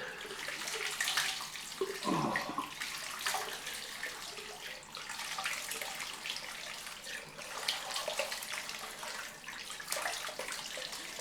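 A bathroom tap runs steadily for a cold rinse after a shave, a soft continuous hiss of flowing water with gentle splashing swells, one brief gurgle near the start, heard alone and fairly faint.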